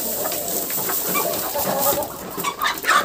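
Chickens cluck steadily inside a shed during moulting season, several birds overlapping in a busy, close chorus with scattered higher calls near the end.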